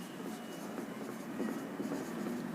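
Handwriting during a classroom lesson: a brief, quiet, scratchy stroking of writing heard close over soft background noise.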